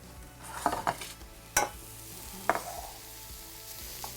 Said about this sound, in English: I can hear those vegetables behind me sizzling, so I'm going to give those a stir.